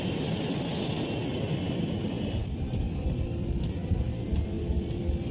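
Airbus A380 jet engines of a Qantas airliner roaring steadily on the takeoff roll, a loud continuous rumble with a high whine and faint periodic thumps, no voices.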